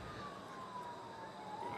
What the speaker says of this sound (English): You can probably hear the sirens are coming this way.